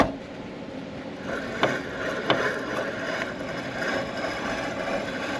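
A bad wheel bearing on a Ford grinds with a rough, continuous scraping drone and a couple of sharp clicks, heard close up in a quiet shop with no one talking.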